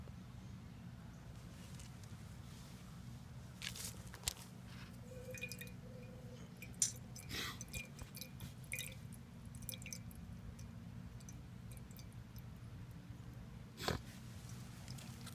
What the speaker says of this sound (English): So it appears my water flow is slowing down substantially.